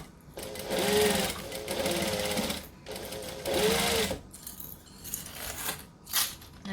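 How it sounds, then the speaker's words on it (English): Sewing machine stitching and backstitching across the edge of a McCall's M7314 dress, running in two close bursts with a pause between, then quieter handling clicks. "Then we're going to stitch and back stitch, and then we're going to stitch the whole way across here."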